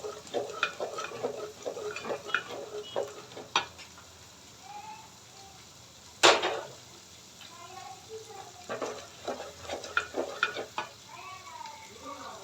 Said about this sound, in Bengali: আমি এখন এই মশলাটা ভুনতে থাকছি